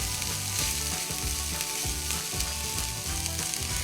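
Onions fry in a pan for a butterbean, chorizo and feta soup, a dense continuous sizzle with faint crackles and light rhythmic scraping underneath, close and steady.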